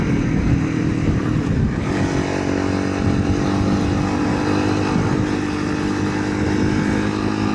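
A big bore Honda CRF300L Rally motorcycle cruises at steady speed, its single-cylinder engine droning loud and continuous alongside wind rush, with no talk.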